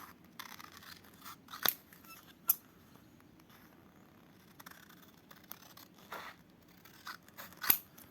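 Scissors snip through paper while cutting out a sketch, a few sharp isolated cuts spaced apart over quiet room tone, with no talking.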